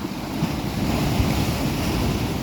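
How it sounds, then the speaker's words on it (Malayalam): Rough sea surges against the newly built Kizhur breakwater during a swell surge, a loud continuous roar of waves mixed with gusty wind buffeting the microphone, with no speech. "ആടെ കടൽ വരുന്നുണ്ട്"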